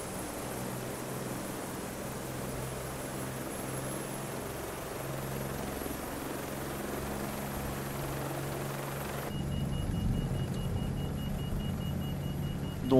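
Airplane engine in Microsoft Flight Simulator 2020 drones steadily through a takeoff roll near Berck-sur-Mer, a constant loud rumbling hum that swells slightly toward the end, with no talking.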